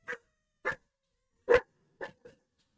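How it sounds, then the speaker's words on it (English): Dogs bark excitedly at a mail carrier indoors, five separate woofs spaced irregularly over a few seconds, fairly close and moderately loud with quiet gaps between. "The mailman's here. My dogs are going crazy."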